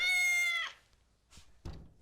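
A pet cat gives a single clear, drawn-out meow up close, followed by a faint soft rustle and a dull thunk near the end.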